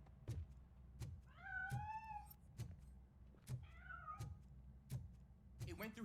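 A cat in the video game Robocop: Rogue City gives two clear, drawn-out meows while escaping, heard amid repeated dull knocking thuds at a steady rhythm, fairly faint overall.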